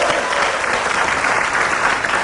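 Sustained applause from a studio audience at an Indonesian TV talk show, many hands clapping in a dense, even roar throughout.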